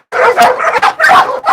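Caged dogs at a South Korean dog meat farm let out a quick burst of loud, close barks and yips, about four sharp calls in just over a second.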